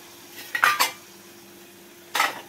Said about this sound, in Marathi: इकडे ग्रेव्ही तयार होते खेकड्याची हळूहळू